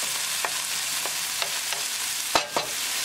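Tomatoes and onions are stirred in a frying pan over a steady sizzle, with a few soft utensil scrapes and one sharper clack near the end, close and fairly quiet.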